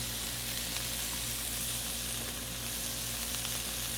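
Bacon burger patties sizzling steadily on a flat Blackstone griddle, a continuous close, even frying hiss with no talking.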